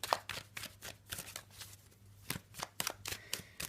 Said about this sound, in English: let's give the cards a bit of a shuffle